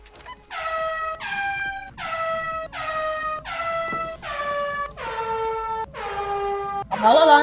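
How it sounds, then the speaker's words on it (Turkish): A Borazan creature in the ZORT video game blows its horn in a series of about seven loud, brassy blasts with short gaps, ending in a harsher burst, filling the whole stretch. "Borazan diye yaratık var. Borazan öttür."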